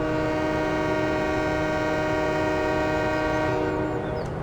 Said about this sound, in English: love the sound of that train horn